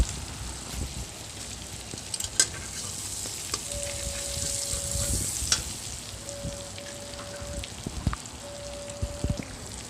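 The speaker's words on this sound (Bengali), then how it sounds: "বাটারটা এবার মেল্ট হতে দেবো।" Butter melts in a kadai for village-style butter pasta, a soft, steady sizzle with scattered small pops and clicks, close by and fairly quiet.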